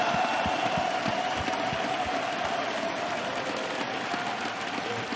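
A crowd of fans at the LEC Season Finals esports event, Fnatic versus Mad Lions, applauds and cheers in a steady, dense roar of clapping that fills the whole stretch.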